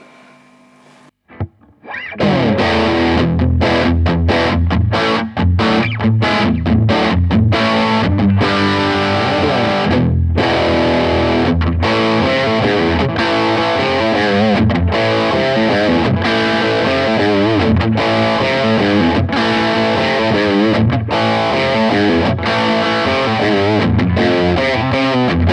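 Electric guitar through a Blackstar Studio 10 EL34 valve amp, driven and gritty, playing busy riffs and chords after a brief quiet pickup, loud and continuous with choppy muted stops for over twenty seconds.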